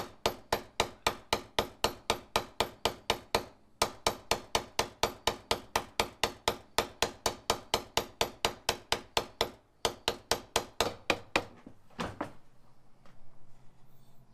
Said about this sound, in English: And you start whacking it. And as you hit it, you just turn it in all different directions and try to never hit it in the same place